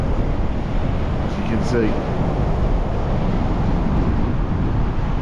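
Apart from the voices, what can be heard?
heavy gusting wind on a beach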